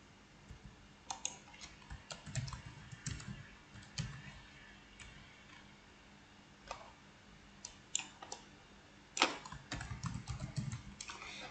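Computer keyboard typing in bursts of quick clicks, fairly faint and close, with pauses between runs of keystrokes while filling in a table in MS Word.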